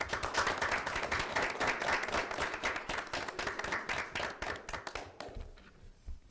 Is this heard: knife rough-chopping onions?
no